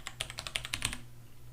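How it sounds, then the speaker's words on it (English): A burst of rapid typing on a computer keyboard, about a dozen quick close clicks over roughly one second before stopping, clear and alone with no talk. "watch what happens even if I type very rapidly like you would normally do"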